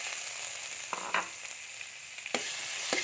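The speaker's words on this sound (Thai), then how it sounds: "ผัดให้หอมเลย ผัดให้หอมเสร็จแล้วก็เติมน้ำนะคะ" Pounded chilli paste and pork sizzle in a hot pan for a northern Thai jackfruit curry, a constant close frying hiss broken by a few sharp scrapes and clicks of a spatula against the pan, with no one speaking.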